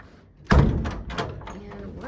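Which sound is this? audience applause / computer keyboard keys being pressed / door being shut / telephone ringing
door being shut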